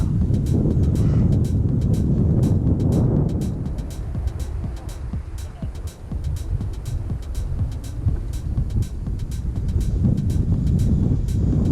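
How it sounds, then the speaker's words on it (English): Steady, loud wind rumbling across the microphone throughout while a FliteTest FT Racer model plane flies, with a faint rhythmic ticking and a distant motor-like hum underneath. "it's a little windy"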